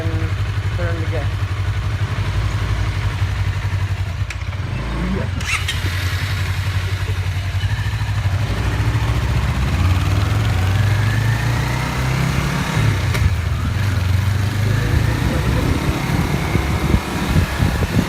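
A motorcycle engine runs close and continuously as the rider eases out the clutch in first gear and opens the throttle, its rumble rising toward the end, with a voice talking over it.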